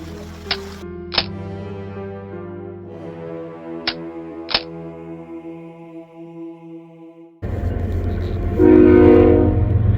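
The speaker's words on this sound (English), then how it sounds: "How often does the train go by?" Train passing near a campsite, with long sustained horn tones and sharp clanking hits, then a louder rumbling rush of wagons rolling by close.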